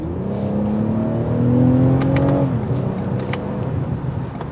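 A 2023 Toyota Camry TRD engine revs and pulls hard on a test drive, with a steady loud drone that rises in pitch as the car accelerates, then eases off. No one speaks.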